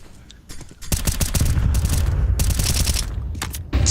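Rapid bursts of rifle fire ring out in a Counter-Strike match, dense and close, with short pauses between volleys.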